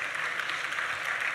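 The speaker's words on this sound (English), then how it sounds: "I think they deserve a round of applause." Audience applauding a conference panel at a regional convening on politics in Africa, a dense steady patter of many hands, fairly faint and distant, continuous throughout the short moment with no talk.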